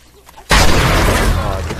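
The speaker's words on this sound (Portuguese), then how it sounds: "E a gente vai usar o Blunderbuss agora." A blunderbuss fires in 7 Days To Die as a sudden loud, wide blast, with a dense roaring boom that sustains and fades slowly after a quiet lead-in, close and full.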